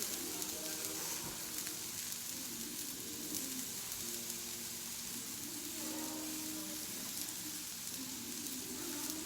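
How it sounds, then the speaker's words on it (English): Onions sizzle and crackle steadily in a hot pan for shrimp fajitas, a soft continuous frying hiss with occasional stirring scrapes, fairly quiet and close. "Get all those flavors cooking and let the juices from the onions release."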